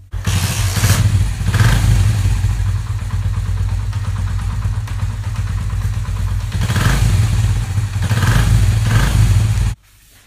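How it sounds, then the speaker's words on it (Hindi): A Honda CD 70 motorcycle fitted with a diode-wired blinking rear light starts and runs, a close, loud low engine chug with clattering that swells at a couple of points, then cuts off abruptly. "मैं बाइक को करता हूँ स्टार्ट, और स्टार्टिंग हम इसका व्यू देखते हैं।"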